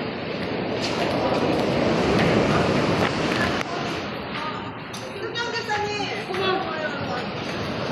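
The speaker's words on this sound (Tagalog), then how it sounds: "Ang lakas ng alon nga ah." Strong ocean waves surge and roar at a beach in Puerto Galera, with gusty wind buffeting the microphone, while people talk and call out over the crashing surf.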